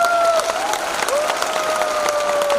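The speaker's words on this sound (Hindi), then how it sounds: "हमारे डायरेक्टर्स के लिए तालियां बजाइए।" An audience at a Modicare business presentation applauds the directors with steady, crowded clapping throughout, while a sustained tonal hum or music runs underneath.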